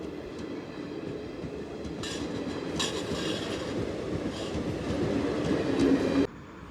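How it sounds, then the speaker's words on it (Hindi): A train passing a closed railway crossing in India, a steady rumbling roll of wagons with clickety-clack and faint wheel squeal. It is loud and close, builds slightly, then cuts off abruptly. "यहाँ पे ट्रेन आ रही थी तो फाटक बंद हो गया था"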